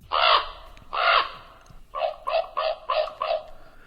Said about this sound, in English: The common raven, Corvus corax, today's Talkin' Birds featured feathered friend